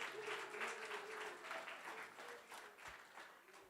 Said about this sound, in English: Can we please give the panelists another round of applause?